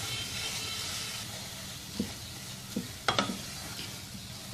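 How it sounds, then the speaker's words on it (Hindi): Carrot halwa mixed with coconut powder, khoya and cardamom is stirred in a pan, giving a faint steady sizzle with a few soft scrapes and knocks of the spoon; no talking. "अच्छी तरह से मिक्स कर लेंगे।"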